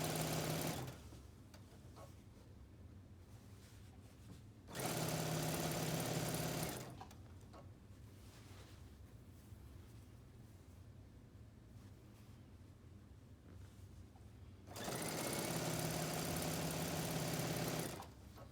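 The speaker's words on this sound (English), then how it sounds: "I'm going to go merrily on it my way, sewing my binding all the way down this side" Sewing machine stitching down quilt binding with a basic presser foot, two separate bursts of steady motorized whirring several seconds long, close, with quiet room noise between them.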